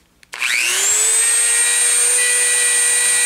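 A Dremel rotary tool with a wire brush spins up after a brief click and holds a steady high whine with sharp overtones, loud and close, scrubbing flux off a silver-soldered braze repair.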